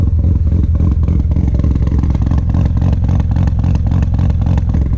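A Mazda RX-7 FD rotary engine suspected of bad fuel runs roughly, a loud close uneven idle with rhythmic pulsing and slight bouncing in the engine note, no voices.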